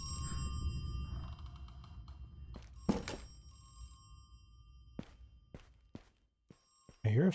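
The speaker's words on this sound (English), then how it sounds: "So I can hear a phone." Telephone bell ringing in a horror video game, sounding in short repeated bursts over a low ambient rumble, with a few distant thuds between rings.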